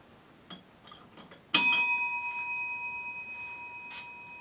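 A single strike of a little bell gives a clear, high ding that rings out and decays gradually, after a few light taps and clicks, with a faint knock later.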